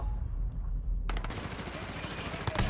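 Automatic gunfire in Call of Duty Modern Warfare 2019 multiplayer starts abruptly after a quiet second and rattles on as a rapid, loud burst to the end.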